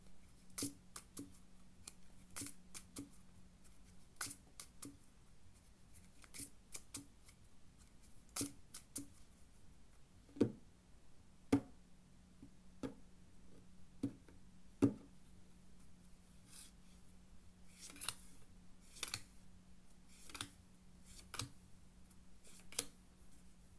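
Playing cards dealt one at a time at a poker table, each landing as a sharp, brief tick or snap in an irregular sequence over a steady low hum, with a few softer flicks and rustles later; no talking.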